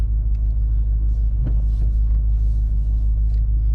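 A Lexus car drives along at normal speed, a loud, steady low engine and road rumble filling the cabin throughout, with faint clicks and rattles above it.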